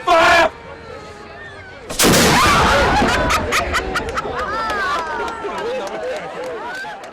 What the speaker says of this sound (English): The competitors are going to hear the roar of a cannon.